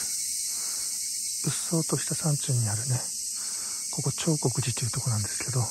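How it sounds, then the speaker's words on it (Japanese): Cicadas drone loudly and steadily in a dense mountain forest around Hasedera temple in Akata, Yurihonjo, Akita, a continuous high buzz that runs under a man's speech. "セミの声がかなり聞こえます。"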